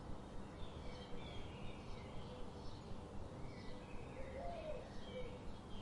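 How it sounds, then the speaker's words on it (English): Scattered birds chirp and call faintly over a soft, steady background in the Iberian mountain savanna of the southern Gredos slopes at El Raso, with no voices. "It is here that countless birds sing their songs"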